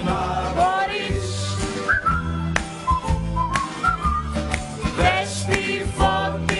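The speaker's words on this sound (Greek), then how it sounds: "ελάτε να το σφυρίξουμε μαζί χαρούμενα! Σφύριξε χαρούμενα, μπορείς!" Cheerful, bouncy melodic whistling over an upbeat music track, close and continuous, with rising phrases repeated in a lively rhythm.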